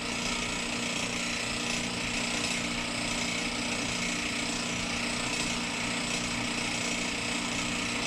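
A drill bit bores into a Rolls-Royce P3 clutch lining to prepare it for riveting, making a continuous, dense mechanical grinding and whirring that stays steady and close throughout, with no talk.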